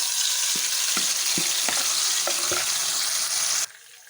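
A spice mixture cooks in a pan of frying chicken korma with a dense, loud sizzle. Soft thuds of stirring come every half second or so, and the hiss drops off sharply near the end.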